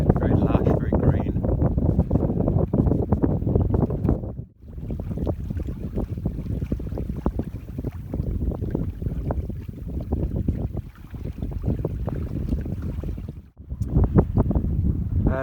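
A sailboat beats upwind during a midweek cruise past an island, with heavy wind buffeting the microphone and a steady rush of water and hull noise throughout, loud and close, with someone talking over it.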